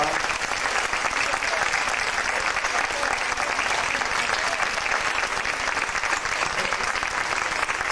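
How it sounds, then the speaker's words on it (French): Sustained, dense applause from a large audience, an even, roaring wash of many hands clapping at once that holds steady and loud for about eight seconds without a break. "On peut les applaudir très fort."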